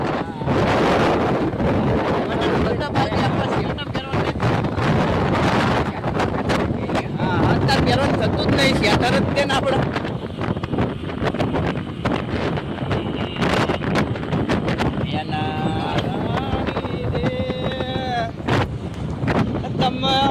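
Wind buffets the microphone during a motorbike ride through a village, a steady rushing roar that runs the whole time beneath someone talking.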